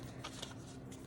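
Oversized tarot cards are shuffled by hand in a brief, soft rustling and riffling burst, close by and with no talk over it.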